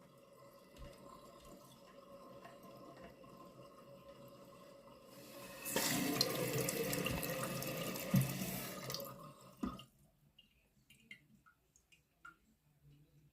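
Water runs through a toilet tank past a leaking flapper: a faint trickle grows into a louder, steady rushing hiss for several seconds, then cuts off abruptly, leaving faint drips and ticks.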